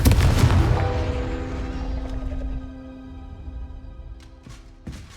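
A fiery Confringo spell blast erupts in the video game Hogwarts Legacy, a loud booming burst at the start that decays into a ringing tonal hum, followed by a few smaller thuds.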